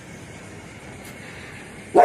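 A pet dog at a house barks at children passing the front gate: a quiet outdoor background, then one short, loud bark right at the end.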